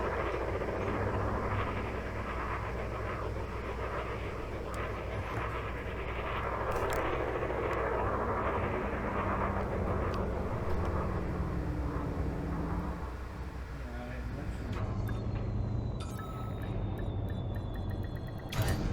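A spaceship in the Elite Dangerous video game drones through a landing, its engine hum rising and falling over a low rumble. Near the end come sharp mechanical clunks and a swept whine as the ship docks. No speech.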